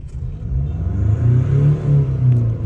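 A 2019 Ford Ranger Wildtrak engine revs up in a few loud, close, swelling surges of low rumble, the pitch rising and falling with each press.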